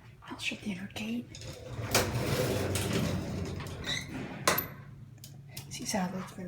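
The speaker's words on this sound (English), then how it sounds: "I'll shut the inner gate." The metal scissor gate of an old William R. Rees freight elevator is pulled shut, giving a clattering, scraping rush of metal with sharp clanks around the middle of the clip, while a person speaks before and after.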